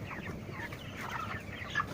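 Hungry broiler chickens in a feeding pen cluck and chirp in a busy, overlapping chorus, moderately close and steady throughout, with no voices.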